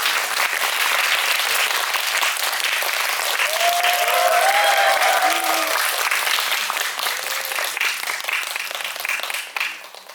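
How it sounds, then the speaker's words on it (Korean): Steady, sustained audience applause at a film Q&A screening as a director and actor are welcomed on stage, dense and loud throughout before tapering off near the end. "큰 박수로 부탁드립니다."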